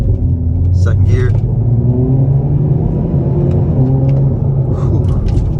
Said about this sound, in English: stepping back out here in the Veloster N, lean into it, second gear